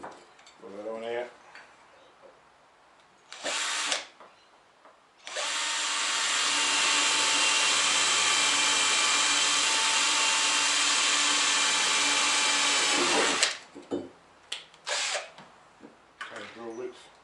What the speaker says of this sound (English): I'm going to just drill them 2 holes out.